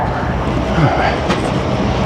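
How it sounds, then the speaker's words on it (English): A train at a busy station platform in Toronto gives a loud, steady rumble of rolling wheels and rail noise, with a brief squeal partway through. "train to Union is now boarding from platform 4"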